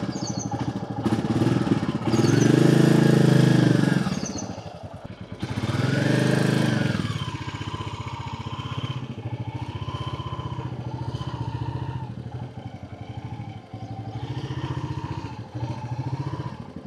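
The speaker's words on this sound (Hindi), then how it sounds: "मोटरसाइकिल पर चल रहा है।" A motorcycle on the move, its engine loud and close, rising in a strong surge, easing, surging again, then settling into a steadier running drone with slight shifts in pitch.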